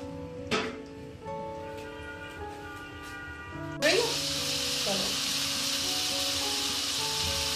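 Onions frying in a pot for chicken masala handi with cream and butter, a steady loud sizzle that swells suddenly midway and continues, with a clink early on and faint tonal hum underneath.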